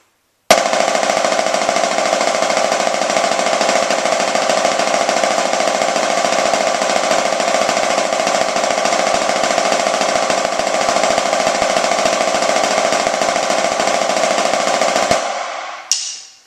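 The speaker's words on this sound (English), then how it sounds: "Or you could play like a 101-stroke roll, which for kicks and giggles would be this." A 101-stroke drum roll played with sticks on a practice pad: a dense, rapid, even buzz of strokes starts sharply and runs unbroken for about fifteen seconds before stopping, close and loud with no talk.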